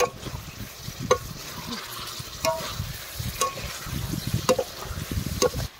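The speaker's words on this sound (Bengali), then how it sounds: "এখন ভালো করে বেগুনগুলোকে একটু কষিয়ে নেব" Whole eggplants sautéed and stirred in a spiced curry masala, a steady sizzle with spoon scrapes against the pan recurring roughly every second, close and continuous with no voices.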